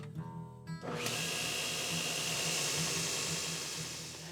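A slack belt grinder sharpens an axe bevel, starting with a short rising motor whir and then settling into a steady, close, hissing grinding whine with no talk.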